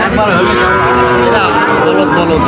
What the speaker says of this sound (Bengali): জাত তো আছে সাইওয়াল জাতের বলদ